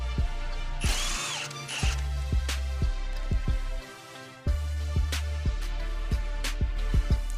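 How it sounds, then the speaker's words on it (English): Power tool with a 12mm socket on a tie rod nut and ABS strut bracket of a 2004-2012 Mitsubishi Galant, firing in short repeated impact bursts with brief pauses, close and clear. "Now remove the nut for your tie rod and remove the ABS bracket from your strut with the 12mm"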